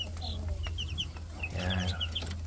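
Rhode Island Red chicks make soft, repeated clucks and chirps at close range over a low steady hum, with a short cluster of throatier clucking near the end.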